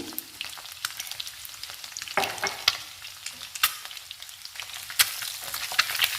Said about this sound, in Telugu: ఈ గుడ్డు ముక్కల్ని 2 మినిట్స్ ఫ్రై చేసుకుందాము